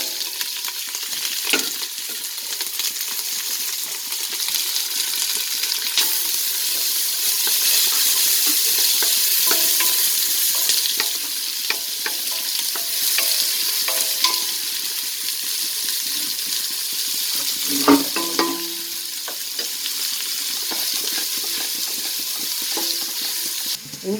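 Onion and green chilli frying in oil for tomato biryani, a steady close sizzle with occasional stirring scrapes and clinks, no talking.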